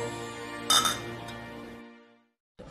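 Glasses clink together once in a beer toast with Tsingtao draft beer, a bright ringing chime that rings on briefly before fading, with a low musical backdrop and then silence.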